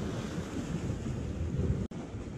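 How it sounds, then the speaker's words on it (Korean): Rough sea waves break steadily against concrete tetrapods of a harbour breakwater in stormy, windy weather, a continuous loud wash of surf mixed with wind rumble on the microphone and a brief dropout near the end. "이쪽이나 저쪽이나 파도가 치는 것은 매한가지."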